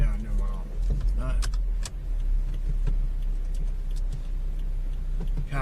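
A car travels on the road, a steady low engine and tyre rumble that holds throughout at moderate loudness, with faint indistinct voices mixed in.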